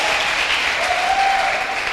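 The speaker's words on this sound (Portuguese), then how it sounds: "Dê uma salva de palmas" A church congregation gives a dense, sustained round of applause, many hands clapping together at steady volume with no voices over it.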